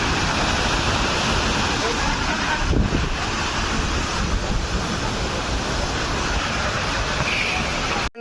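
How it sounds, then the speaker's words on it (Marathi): Raigad fort's waterfall roars loudly and continuously, close by, with wind buffeting the microphone throughout. "धबधबा, रायगडवरील धबधबा आलेला आहे."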